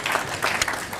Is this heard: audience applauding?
yes